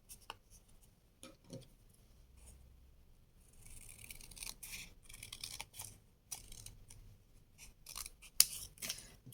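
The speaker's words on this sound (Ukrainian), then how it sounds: "складаю навпіл і розрізаю їх по лінії згину" Paper circles folded in half are snipped along the fold with scissors, a series of crisp close cuts and short snips, quiet and alone, during a children's paper appliqué craft.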